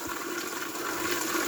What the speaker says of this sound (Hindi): झरना है पीछे एक